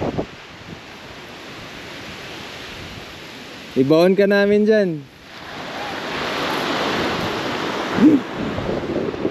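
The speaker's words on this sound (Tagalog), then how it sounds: "Ay, lakas ng alon no." Strong ocean waves roar continuously against a rocky shore, swelling louder midway, with a voice speaking briefly over the surf and wind buffeting the mic.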